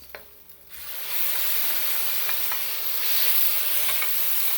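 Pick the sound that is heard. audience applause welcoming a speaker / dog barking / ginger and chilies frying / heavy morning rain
ginger and chilies frying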